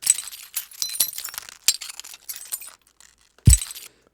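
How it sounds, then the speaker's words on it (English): Breaking glass as a foley sample: a rapid run of bright clinks and tinkling shards, then a pause and one sharp, heavier crack with a low thump near the end. "just this little sound of glass breaking"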